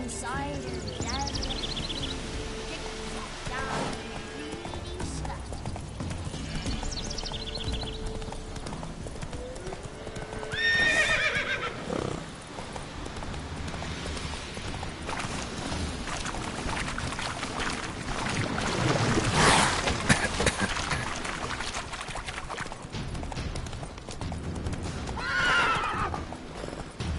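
The horse Roach galloping in the video game The Witcher 3, continuous rhythmic hoofbeats with several neighs and whinnies, under stretches of talking and game sounds.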